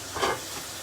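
Shinwari qeema karahi sizzles briefly during roasting (bhunai), a short, close hissing burst that flares and then settles to a quieter fizz.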